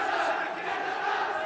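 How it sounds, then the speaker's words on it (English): A crowd at a grappling match roars continuously, a dense wash of cheering and shouting from many voices that holds steady and loud throughout the short stretch. "Wow, the crowd is going crazy."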